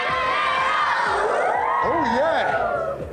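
A studio crowd of children yells and cheers loudly and continuously on a game show, rising whoops and shouts piling over one another.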